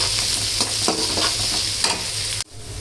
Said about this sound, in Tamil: கடாயில் வெங்காயம், கருவேப்பிலை அப்படியே கொஞ்சம் வதக்கிடலாம்.